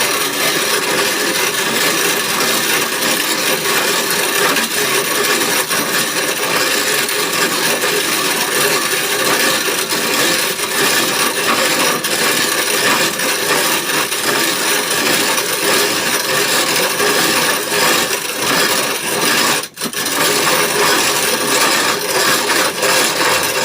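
A hand grain mill grinding dried corn kernels, a steady close-up rasping and gritty rubbing that runs almost without pause, with one brief break near the end.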